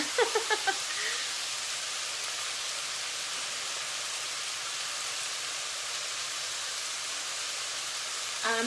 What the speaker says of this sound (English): I'm just letting you listen to the sizzle because that's good sounds.